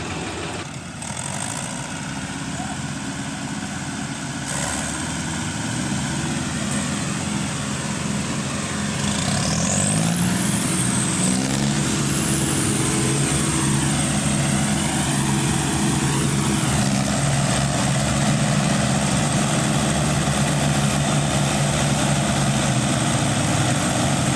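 A tractor engine labors steadily, pulling a trolley loaded with paddy that is stuck in a field, its loud droning hum rising and shifting in pitch over a long stretch, heard up close and alone.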